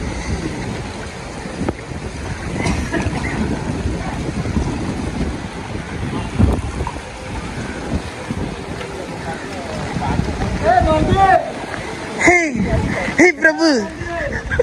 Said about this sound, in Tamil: நல்லா போயிட்டு இருக்கு தண்ணி, சூப்பராக.